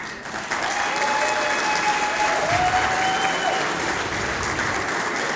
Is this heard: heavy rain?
no